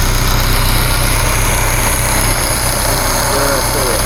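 A vehicle engine idles loudly and steadily in the engine bay, a continuous low rumble with no pauses, heard up close.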